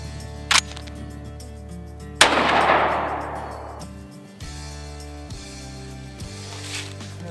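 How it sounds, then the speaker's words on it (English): A turkey shotgun fired outdoors while patterning, with a brief sharp blast near the start, then a louder close boom whose decaying report trails off over a couple of seconds. "Let's shoot these shotguns."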